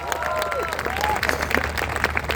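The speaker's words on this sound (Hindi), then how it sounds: "रॉयल इंडिया वेकेशन के लिए एक बार जोरदार ताली होनी चाहिए" Audience applause at a live motivational seminar in Bhopal, heard as dense, steady clapping that fills the room, partly mixed with a voice and some tonal sounds.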